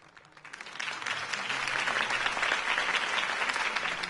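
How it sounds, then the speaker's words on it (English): A video game crowd bursts into sustained applause that builds quickly and holds steady, loud and dense, with no voices standing out. "could have heard that applause"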